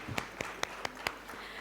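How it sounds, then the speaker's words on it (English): A sparse handful of about five separate handclaps sounds at a FLO Indore women's event honouring entrepreneurs, with each clap distinct and evenly spaced before fading out. "Ladies, a big round of applause for these inspiring entrepreneurs."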